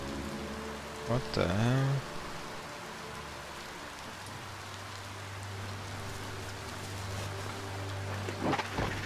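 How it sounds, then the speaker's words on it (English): Rain and thunder in the video game Biomutant: a steady wash of rainfall with rolling rumbles, a brief swooping game effect early on and a spoken exclamation, over a low constant hum. "When it rains, it gets wet."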